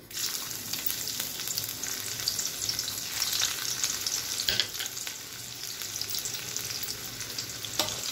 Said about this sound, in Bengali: এই তেলের মধ্যেই আমি দিয়ে দিচ্ছি রসুন কুচি